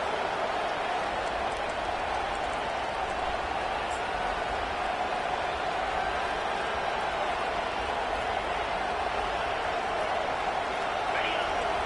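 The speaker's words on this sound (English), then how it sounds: "Here comes this home crowd as the defense tries to get off the field on third down" A home crowd at a college football game roars in a steady, sustained wash of cheering and noise while the defense faces third down, with an announcer talking over it.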